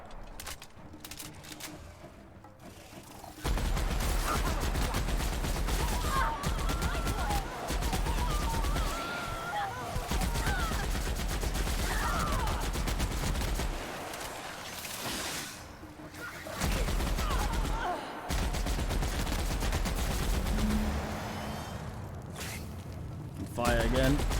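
Gunfire in the sci-fi shooter The Outer Worlds, sustained bursts of shots running through most of the stretch with brief gaps, mixed with game sound effects and a voice talking over it.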